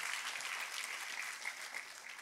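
A church congregation applauds warmly during worship, sustained many-handed clapping that stays fairly even and softens slightly toward the end, with no speech over it.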